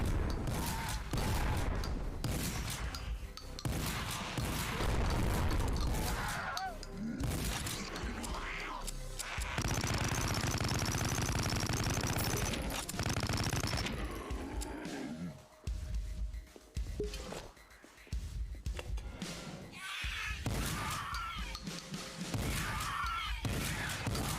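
Weapon fire in the boomer shooter game Project Warlock, dense rapid blasts and booming shots layered over roaring game noise and music, continuous and loud with only brief lulls.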